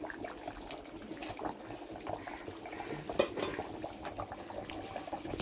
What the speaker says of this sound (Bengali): দেখতেই পাচ্ছেন গক বক বক বক করে তরকারি ফুটছে